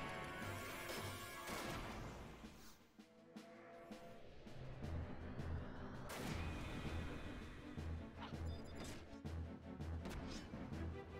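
A Firaga fire spell bursts in Final Fantasy XI, one of several loud crashing, whooshing blasts that rise and fall amid busy battle effects.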